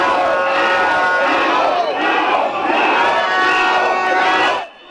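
A dense crowd roars and cheers with joy over an election result, a loud, continuous wash of many voices with shouts rising and falling before cutting off abruptly near the end.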